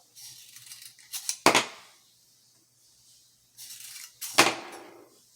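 Empty .22 LR shells being pushed out of a Ruger Wrangler single-action revolver with the ejector rod, giving two sharp metallic clicks about three seconds apart, each with a brief rattle before it, close by with quiet between.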